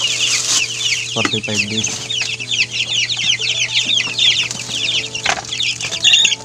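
Young chickens of a second batch cluck and chirp busily while being fed, with wings flapping and a short burst of louder squawking, close by; a person speaks briefly.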